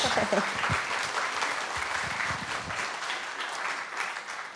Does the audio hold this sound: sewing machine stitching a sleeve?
no